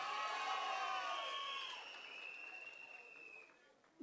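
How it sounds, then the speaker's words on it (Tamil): Audience applause and cheering at a large political celebration rally, a broad crowd roar that swells at the start and slowly fades over several seconds. "நம்ம சிங்கப்பெண்ணை நல்லா கைத்தட்டி உற்சாகப்படுத்துங்கப்பா"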